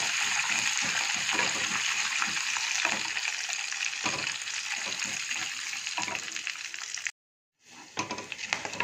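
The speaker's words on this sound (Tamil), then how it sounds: "முந்திரி, கசகசா அதையும் போட்டு ஃப்ரை பண்ணிக்கணும்" Cashews and poppy seeds frying in oil in a pan for chicken kurma, a continuous close sizzle with repeated stirring clicks, briefly cutting out near the end.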